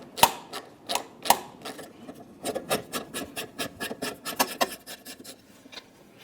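Ratcheting wrench clicks steadily as 7mm bolts are backed out of the fuel filler neck on a 1998–2002 Lincoln Navigator, a close, rhythmic series of sharp ticks with a few louder knocks, no talking.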